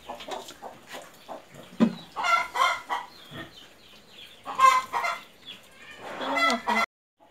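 Muscovy ducks and poultry call repeatedly in a rural yard while a meal is being prepared, sounding close and fairly loud, with hoarse, clucking cries in irregular bursts that break off abruptly near the end.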